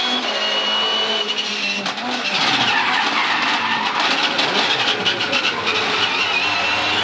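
A race car's long, harsh tyre skid screeches continuously over a roaring engine for more than 100 metres, loud and close, with the squeal rising and wavering for several seconds.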